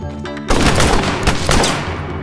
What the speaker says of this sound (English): finding cover from more gunshots